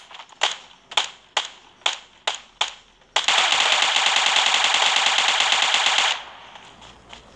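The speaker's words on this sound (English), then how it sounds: "Gunshots." Video game gunfire: about seven sharp single shots in a steady rhythm, then a sustained loud automatic burst lasting around three seconds before cutting off to quieter background.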